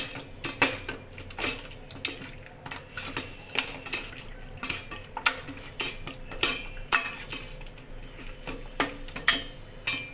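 Chicken being mixed by hand with a spoonful of tomato sauce in a bowl makes a rapid series of close clinks and taps, with soft squelching between them.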